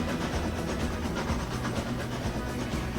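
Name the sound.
Broadway Limited train passing by in Transport Fever video game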